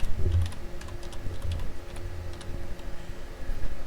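Someone types cell entries into a spreadsheet on a computer keyboard, with steady, fairly quiet key clicks and taps over a low background hum. No one speaks.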